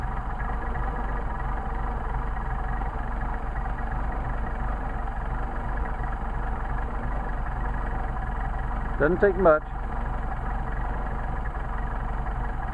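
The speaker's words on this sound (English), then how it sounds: "adjust these by screwing them in till the engine stumbles, then screwing it out till the engine stumbles" A car engine with a Solex carburetor idles steadily throughout, a constant low drone near the microphone while someone speaks briefly over it near the end.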